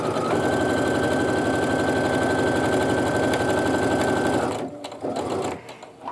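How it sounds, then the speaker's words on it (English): A sewing machine stitches steadily along a drawn line across a quilt block, a loud, continuous rapid mechanical whir with a faint high tone. It runs unbroken for about four and a half seconds, then stops, leaving brief handling noises. "I'm just going to keep on sewing"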